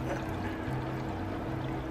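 Water is poured from a container into a cup to make homemade slime, a soft continuous trickling stream, quiet and close, with no voices.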